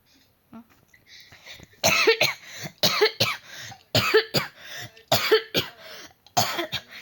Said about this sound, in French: je toussais